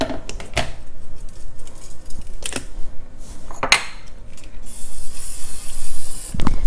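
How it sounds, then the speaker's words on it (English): A cooking oil spray bottle gives several short, sharp spray bursts, followed by a longer hissing spray near the end, mixed with light clinks and handling noises nearby. "This is a cooking oil spray."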